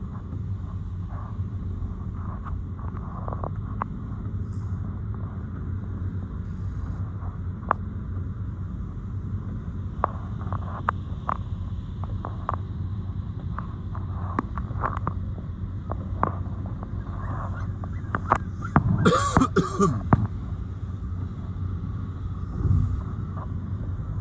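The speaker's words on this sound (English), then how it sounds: "Yes, it is wild weather" Wild, windy weather while driving on the M1 motorway in England, a steady loud roar of wind and road noise inside the moving car, with a brief rougher gust burst near the end.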